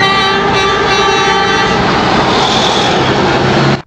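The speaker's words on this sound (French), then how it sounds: "des camions qui klaxonnent leur solidarité" A loud, sustained blaring horn sounds nonstop for several seconds, several truck horns blending into one long honk before cutting off abruptly, at a yellow vests protest in Aubenas, France.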